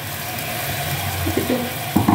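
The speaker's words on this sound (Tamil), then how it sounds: "உங்களுக்கு தேவையான அளவு தண்ணி ஊற்றிக்கோங்க." Water pours into a cooking pot of boiled, mashed elephant foot yam with ginger and a little salt, producing a steady close gushing flow with slight bubbling changes toward the end.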